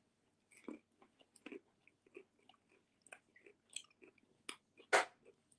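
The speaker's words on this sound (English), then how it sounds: "So if you hear any crunching," Close, crisp crunching and chewing as a family eats dinner plates with broccoli, irregular bites and mouth sounds spread across the moment with quiet gaps between.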